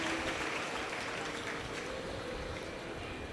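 Applause from an audience at a Shiv Mahapuran katha, a Hindu religious gathering in Sehore, Madhya Pradesh: a steady, dense wash of clapping from a large crowd, sustained and even throughout.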